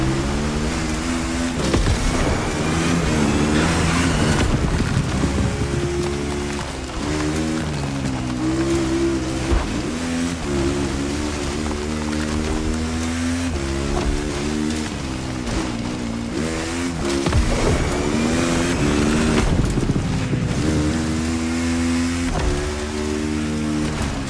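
KX450 dirt bike engine in The Crew Motorfest, a loud, steady motorcycle drone with rising and falling revs running continuously throughout, with no talking.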